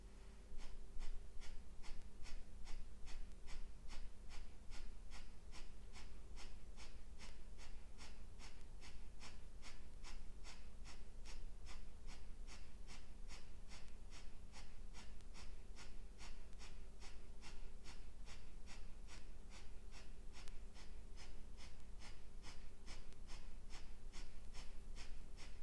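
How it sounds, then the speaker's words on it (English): Quick, rhythmic breaths drawn through the nose during a heart-opening breathing practice repeat in a steady pulse, faint and close, with no talking throughout. "I will be breathing through my nose."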